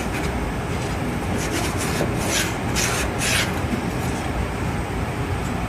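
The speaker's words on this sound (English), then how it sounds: "you can use this putty knife and just scrape along the edge" A putty knife scrapes debris along the edge of a Nieco broiler in a continuous rough, gritty rasping that holds steady throughout, with a few brighter scratchy strokes partway through and no voices.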